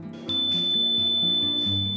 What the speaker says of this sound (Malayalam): ബൂത്തിൽ നിന്ന് ആദ്യ ബീപ് ശബ്ദം ഉയർന്നത് ഹസൻകുട്ടിയുടെ വിരൽ ഇലക്ട്രോണിക് വോട്ടിംഗ് മെഷീനിൽ പതിഞ്ഞപ്പോഴാണ്.